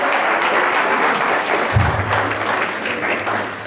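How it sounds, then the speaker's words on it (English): Audience applause fills the room in a steady, dense wash of clapping from start to finish, rising for a round honoring a performer during a resilience-building play event. "Give her a round of applause."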